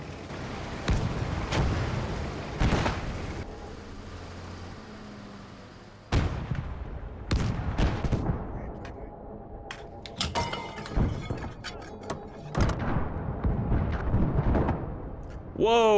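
Heavy 75 mm gun blasts in the WWII game Gates of Hell, several loud booming shots spaced irregularly with rumbling tails, mixed with other battlefield explosions and clatter.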